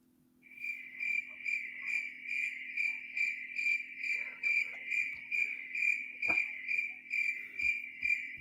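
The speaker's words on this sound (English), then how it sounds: "now I got the Crickets ready to go" Cricket chirping sound effect, a loud, close, rhythmic trill repeating steadily in quick pulses against a quiet background, with a couple of soft knocks near the end.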